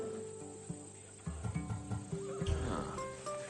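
A Thessalonian-bred horse in Assassin's Creed Odyssey whinnies in short, repeated snorting bursts with hoof clops, over a steady bed of chirping crickets and outdoor ambience, with no one talking.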